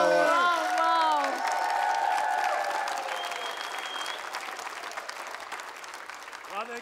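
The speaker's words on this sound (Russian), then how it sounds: "эти аплодисменты для тебя" Audience applause with scattered cheers from a crowd, loud at first and then fading to a steady, softer patter of clapping, with voices and brief whoops mixed in over the sustained clapping.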